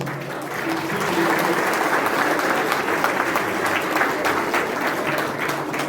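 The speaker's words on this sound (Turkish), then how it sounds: "bir alkış daha alabiliriz" Sustained audience applause rolls on at the opening of the Galatasaray venue in Hamburg, a dense, even wash of clapping from a sizable crowd, loud and continuous with faint murmurs beneath.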